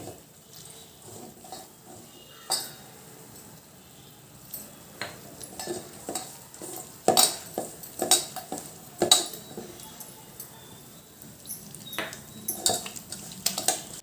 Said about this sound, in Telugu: ఇప్పుడు వాటర్ వేసుకుంటూ బజ్జీల పిండిలా కలుపుకోవాలండి